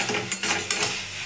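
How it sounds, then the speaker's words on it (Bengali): Radish fries in a pan, a steady sizzle broken by two sharp scraping stirs of a utensil against the metal. "এই যে ভালো করে ভাজা হবে"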